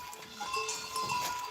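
A Verata goat, a young doe after her second kidding, bleats in short, wavering calls repeated a few times, fairly close and clear over a quiet farmyard background.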